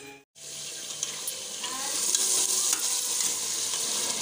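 Keema minced meat cooking in a pan, a steady close sizzle with occasional stirring scrapes, with no talking.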